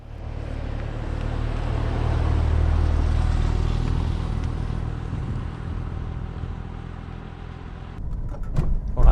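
A 997 Gen 1.5 Porsche 911 Turbo with the 3.6 Mezger engine, driving on the road and heard from inside: a steady low engine rumble that swells and eases, with a brief clatter near the end.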